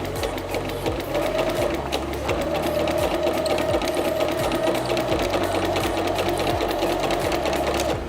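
A sewing machine stitches through paper, its steady fast mechanical whirr and rhythmic needle chatter running close and continuous, with a brief slowdown near the start as the presser foot is lifted to turn at a corner; no talk.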